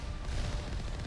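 Rockets firing and exploding in the Mass Effect video game, a dense continuous rumble of booms and blasts, loud and close, with no talk.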